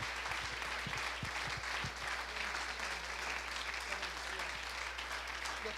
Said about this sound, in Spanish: Dale ese aplauso al Rey.